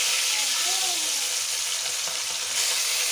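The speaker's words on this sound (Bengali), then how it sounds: "এখন মাছগুলোকে আমি ভালো করে ভেজে নেব" Hilsa fish pieces fry in hot oil in a wok, giving a loud, steady, close sizzle that holds evenly for the whole stretch with no talking.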